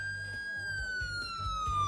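A wailing electronic siren holds a steady rising-and-falling tone, loud and continuous, with faint rumbling beneath.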